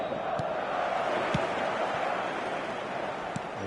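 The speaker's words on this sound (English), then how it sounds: "this place is living up to its reputation as one of the noisiest corners of the footballing world. No decibels spared in this collective chorus" Large, passionate football stadium crowd on a clear evening, a dense roaring chant filling the air at steady volume with a few sharp claps or thuds poking through.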